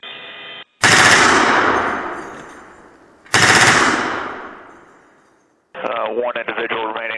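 Two long, loud bursts of machine gun fire from an external gun mount system ring out with trailing echoes, framed by crackly radio chatter before and after.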